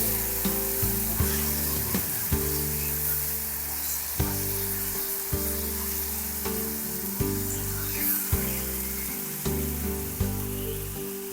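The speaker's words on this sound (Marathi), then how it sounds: "ही एक टोमॅटोची मी प्युरी करून घेतलेली आहे तर ती आपल्याला याच्यामध्ये घालायची आहे" Tomato puree sizzles and fries loudly in a hot pan, a dense steady hiss broken by regular stirring scrapes across the whole stretch, without any talking.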